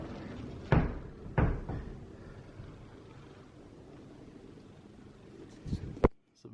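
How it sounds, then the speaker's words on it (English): A large sliding door in a Disney's Copper Creek deluxe studio hotel room gives two solid thuds close together near the start, a quiet stretch of room hum, then a sharper rattling bang near the end. "this is a large sliding door"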